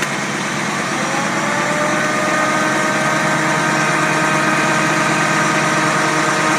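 An engine fed by three single-barrel Rochester carburetors runs at a steady, loud, even drone with a constant hum and no change in pitch throughout, and nobody speaks.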